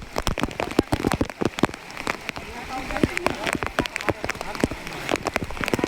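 Torrential rain lashing narrow village lanes in Thangadh, a close, thick patter with sharp individual splats and runoff, steady and loud from start to finish.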